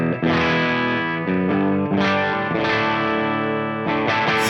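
Clean electric guitar through a Genome amp simulator at low input, with strummed chords and single notes ringing in a steady, close, full tone and no talking.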